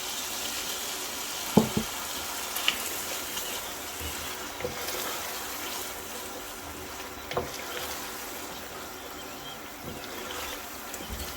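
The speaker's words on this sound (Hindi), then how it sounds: "इसलिए मैं इसके साथ ही ये मसाले के साथ ही इसको डाल के थोड़ा सा इस मटर की बुनाई कर लूँगी" Organic peas frying with masala in a pan for matar paneer, giving a steady soft sizzle with a few sharp clicks of stirring, close and alone without talk.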